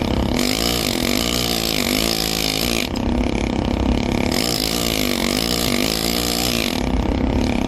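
A rotary engraving handpiece fitted with an angulette runs continuously, a loud steady motorized whine and buzz that dips and rises in pitch as the load changes, with no talking.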